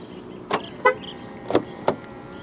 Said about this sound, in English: To lock the car, press the indentation on any of the front door handles.